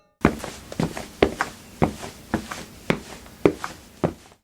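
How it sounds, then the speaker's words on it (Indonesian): Heavy, slow footsteps land outside a house, about eight to nine evenly spaced thuds at a steady plodding pace, close and clear against a quiet background. "Langkah kaki berat, pelan dari luar rumah."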